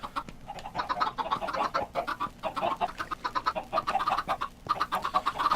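A crowd of chickens in a Minecraft (Jumcraft) game world clucks constantly in short overlapping bursts, a busy, steady chatter of many birds close by with no talking.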